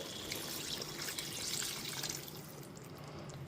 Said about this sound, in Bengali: এর মধ্যে পরিমাণ মতো জল দিয়ে দিচ্ছি